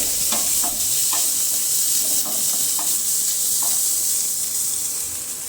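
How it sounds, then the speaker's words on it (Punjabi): Ground bitter gourd seeds roasting in a pan with ginger and garlic make a loud, constant sizzle, with a series of light rhythmic spatula taps and scrapes running over it. "ਬੀਜਾਂ ਨੂੰ ਵੀ ਆਪਾਂ ਭੁੰਨ ਲਵਾਂਗੇ"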